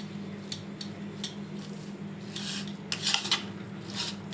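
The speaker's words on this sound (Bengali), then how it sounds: "এবার আমি ভালো করে মিক্স করে নেব।" A spoon stirs sweet corn chaat with tomato ketchup in a bowl, giving light repeated scrapes and clinks against the dish over a low steady background hum.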